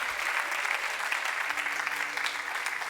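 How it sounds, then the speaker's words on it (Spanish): A church congregation applauds in a dense, continuous wash of clapping, fairly faint and even throughout. "Aplauda si quiere aplaudirle."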